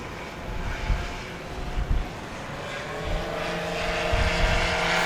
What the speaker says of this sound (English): listen to the loud thunder of the Sidewinder turbo